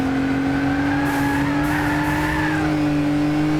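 A race car in Gran Turismo 6 holds a steady, loud engine drone with a shifting pitch as it downshifts, while tire skid noise runs continuously underneath for the whole stretch.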